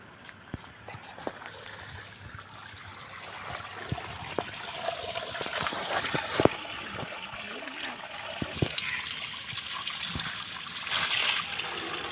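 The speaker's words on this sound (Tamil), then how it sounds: "இங்கே சென்ட்ரல் தண்ணி நல்லா ஃபோர்ஸாக வருது" Water from a 150-foot borewell, pumped by an AC/DC solar motor pump, gushes and splashes steadily from a pipe, a continuous rushing flow with scattered drips and splatters.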